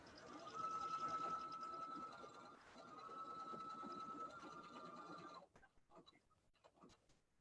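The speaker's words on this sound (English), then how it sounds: "so now this is top stitching my lining on the back side." Sewing machine top stitching the lining of a minky fabric zipper bag, a steady close mechanical hum with a short pause midway, stopping abruptly before a few faint handling clicks.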